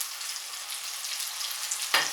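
A veal chop sears in a hot pan, giving a steady, close sizzle and crackle with a sharp spatter near the end and no talking.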